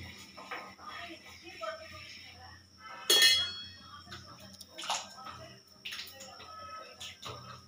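A bowl clinks sharply once against a hot clay pan while Bengali gendul pitha cooks on a gas stove, amid soft kitchen rustling and a voice speaking.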